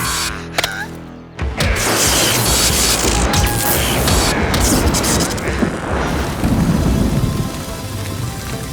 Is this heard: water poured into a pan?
no